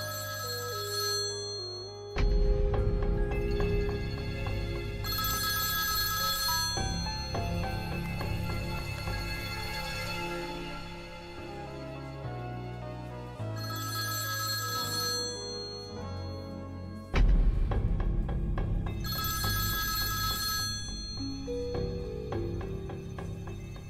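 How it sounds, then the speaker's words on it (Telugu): Telephone ringing in a Telugu thriller film scene, its repeated bright rings set against a dense musical score that swells and drops, with no talking over it. "నాన్నే ఫోన్ చేస్తున్నారు, మీతోనే మాట్లాడాలన్నారు."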